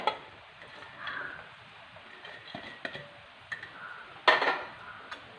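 Spoon stirring yogurt and chopped coriander leaves in a bowl, soft scraping with sparse clinks and one sharper clatter near the end, quiet and close with no talk.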